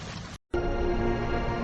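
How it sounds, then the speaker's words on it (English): Steady rain falling, a dense even hiss that cuts out for a moment and then resumes just as full. "Rain begins to fall."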